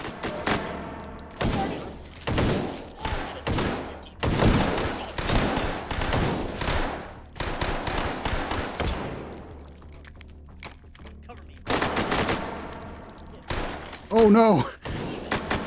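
Gunfire erupts in the VR shooter Hot Dogs, Horseshoes & Hand Grenades: loud bursts and rapid volleys of shots with thuds between them, while a player shouts over the fighting.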